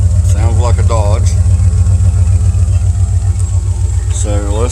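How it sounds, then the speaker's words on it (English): A 2001 Jeep Grand Cherokee Limited engine idles with a steady low rumble throughout, running smoothly without rattle, while people talk nearby over it. "The motor doesn't rattle or anything."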